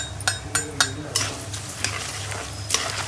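Poha chivda is stirred in a hot pan with coriander, cumin, turmeric and garam masala: repeated crisp utensil scrapes in a quick, uneven rhythm over a steady frying sizzle, close and loud.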